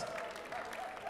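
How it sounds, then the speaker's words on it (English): Faint applause from an audience at a charity luncheon, steady clapping heard at a distance over a low room hum for about a second. "Let's give a round of applause from the California Teachers Association"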